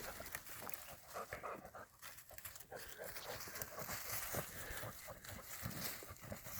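Zoe, a dog out elk shed hunting on rocky ground, pants in quick, rhythmic breaths close by, faint and steady throughout with slight movement noise.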